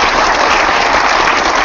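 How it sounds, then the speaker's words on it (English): Steady applause from an audience at a Loudoun County Chamber of Commerce debate forum for Virginia Attorney General candidates, dense and continuous clapping filling the whole moment without voices. "a round of applause for our panel here"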